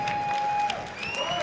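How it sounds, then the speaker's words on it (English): Crowd at a live MMA main event at The Fillmore applauding after the fight, a steady dense wash of clapping with some cheering mixed in, fairly distant and continuous. "They're all clapping."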